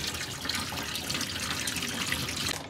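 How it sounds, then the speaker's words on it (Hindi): Raw chicken is washed under a running kitchen tap, a close, continuous splashing gush of water that keeps going before tapering at the end. "चिकन हम इसको वॉश कर लेते हैं ताकि पानी हाथ के हाथ निकल जाए।"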